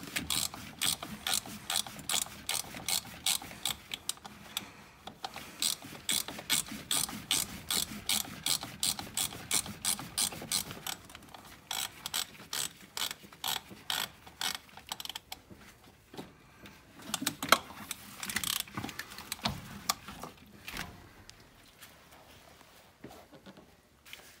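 A filter wrench turns a car oil filter loose, producing a quick series of close ratcheting clicks in uneven bursts, with short pauses between strokes and a few louder clacks toward the end.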